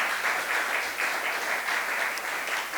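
A church congregation at a worship gathering applauds to acclaim the Lord, steady dense clapping from many hands filling the room, loud and continuous, with no talking over it.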